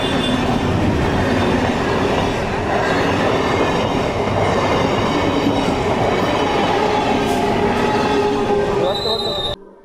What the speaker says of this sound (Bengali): দেখুন পরপর দুটো ট্রেন আসছে